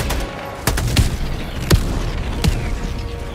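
Auto barrage artillery strike in Helldivers 2: several sharp, heavy impacts land at uneven intervals over a constant rumbling battlefield din, each blast punching through before fading back into the background noise.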